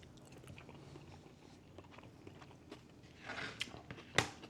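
Someone chews a bite of surimi seafood salad, with faint, soft mouth noises and a few brief, slightly louder crunchy bites near the end in a quiet room.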